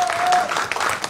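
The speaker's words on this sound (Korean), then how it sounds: "여러분 다시 한번 뜨거운 박수 한번 주시기 바라면서" A fan cafe founding ceremony audience gives a burst of loud, dense applause lasting about a second, with voices mixed into the clapping.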